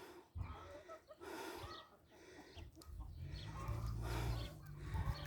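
Several chickens cluck and murmur close by, with scattered calls overlapping against a low outdoor background.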